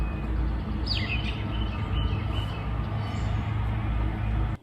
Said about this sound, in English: sparrows, wrens, goldfinch, a whole bunch of different birds.